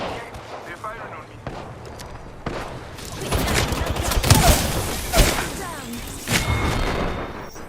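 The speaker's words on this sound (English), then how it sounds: "They're firing on me." Gunfire in the battle game Apex Legends, with bursts and sharp shots clustering mid-clip and carrying over a steady game soundscape, while a player talks throughout.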